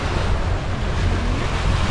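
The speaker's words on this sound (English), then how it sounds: "Yesterday was pouring so much that we almost got caught in like a little river." Heavy pouring rain with rushing water, a loud, dense, steady roar that fills the whole clip without a break, mixed with wind buffeting the microphone and no voices.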